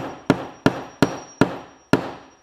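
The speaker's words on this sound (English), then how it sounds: "Push a rivet through, put it on the anvil. Just a couple of whacks" Five sharp, ringing hammer blows on a rivet set against an anvil while rebuilding a brake, evenly spaced about every third of a second, each loud metallic strike decaying quickly with no talking.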